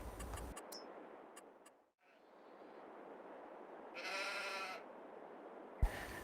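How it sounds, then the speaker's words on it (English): Sheep penned in large numbers, sixty to a pen, on a Farming Simulator farm, give one clear bleat midway over a steady low ambient hum, with a few faint ticks before it. "We've got 60 sheep in each pen."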